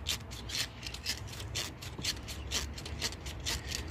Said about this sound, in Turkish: güzelce önce bir kalın zımparayla, sonra da ince bir zımparayla iki katman şeklinde